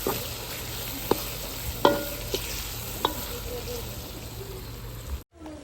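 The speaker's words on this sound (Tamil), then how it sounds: "தக்காளி பழத்தை போட்ட பிறகு கிண்டி எடுப்போம்" Tomatoes stirred in a hot cooking pan: steady frying hiss with several sharp spoon scrapes and clinks against the metal, close and fairly loud, ending abruptly.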